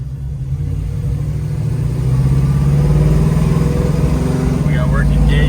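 A 1970 Ford Mustang Mach 1 cruising on an open road, its engine a steady low rumble that builds slightly as it pulls along, with a faint voice in the cabin.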